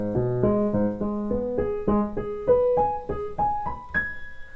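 Piano playing a ragtime transition passage from Maple Leaf Rag, a rising run of crisp, evenly spaced notes climbing steadily in pitch, close and clear with no talking.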